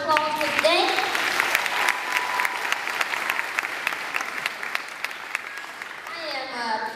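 Crowd at New Garden Friends School's Peace Day 2012 event in Greensboro breaks into loud, sustained applause with sharp individual claps, while a voice speaks briefly at the start and again near the end.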